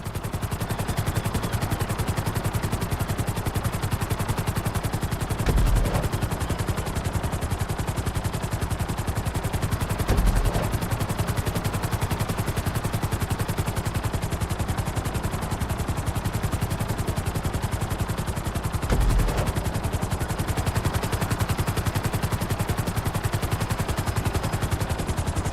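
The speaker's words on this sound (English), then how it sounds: "Bring the helicopter down" A helicopter flies in the GTA 5 video game during a flight school mission, its rotor chop a steady, dense, rapid beat that drones on unchanged for the whole stretch, with a few faint thuds.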